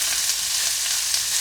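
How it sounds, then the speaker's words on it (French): Sliced onions sizzle in hot vegetable oil in a wok, a steady, dense crackling hiss that holds evenly for the whole stretch with no voices. "je fais chauffer mon wok avec un beau filet d'huile végétale de cuisson et j'y mets mes oignons émincés"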